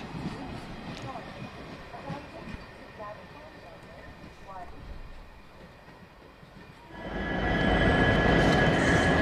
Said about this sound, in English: The empty rakes are possibly going to the Whitefield freight terminal for loading of fresh cargo.